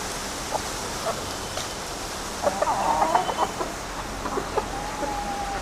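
Backyard chickens cluck in short, scattered bursts, fairly soft and close, with a few busier calls clustered in the middle over low ambient noise.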